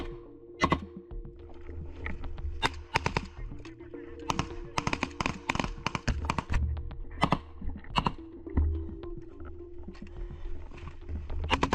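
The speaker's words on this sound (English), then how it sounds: "Then they open direct fire on the bunkers." Bursts of gunfire aimed at enemy bunkers in a combat firefight, a rapid cluster of sharp cracks and volleys repeating across the whole stretch, some shots close and loud, others scattered over a low rumbling background.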